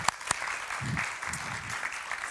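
An audience at an internet conference welcomes a presenter with moderate applause, a couple of sharp near claps at the start, then a softer wash of clapping with low murmuring voices beneath.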